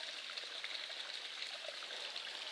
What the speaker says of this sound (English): So this is up above the waterfall.